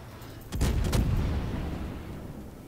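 Warship guns firing in World of Warships, a single heavy booming salvo with a couple of quick cracks that rolls into a long decaying rumble, loud and close.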